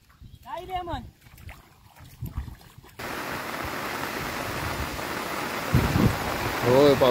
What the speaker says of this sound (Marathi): होय, पावसानं सुरुवात केली,